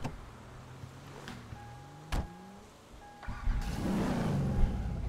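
A twin-turbo AMC car in GTA 5 cranks and starts, with whining tones and a few sharp clicks leading into a rising, louder engine rumble near the end.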